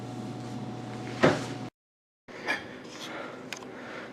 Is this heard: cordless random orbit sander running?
no